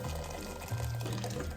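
Water running and pouring into a cooking pot set up as a double boiler for Christmas baking, a steady continuous splashing wash with a low gurgling fill tone, close and moderately quiet.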